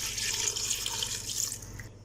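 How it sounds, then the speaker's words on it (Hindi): Two glasses of water pour into a cooking pot holding tomato and ginger-garlic paste for mutton shorba, a steady close splashing stream lasting about two seconds before it stops abruptly. "और अभी इसमें 2 गिलास पानी ऐड कर देंगे"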